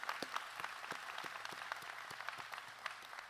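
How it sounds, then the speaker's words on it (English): Steady applause from a crowd at a graduation ceremony, with many hands clapping at a moderate distance and some sharper claps standing out, continuous throughout. "That's worth a round of applause, I think."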